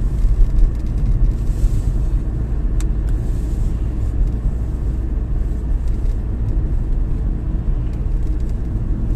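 A car drives through the city streets of Jelgava in November, giving a constant low engine and tyre rumble with road noise heard from inside, steady throughout and with no one talking.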